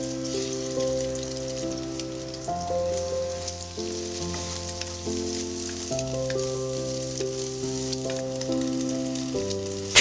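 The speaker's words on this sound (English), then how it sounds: "After the oil is hot, pour in the egg liquid. And slowly fry them with a frying spoon." Beaten eggs sizzle and crackle steadily in hot oil, stirred with a frying spoon, a constant bright hiss that runs under gentle music with sustained, shifting notes.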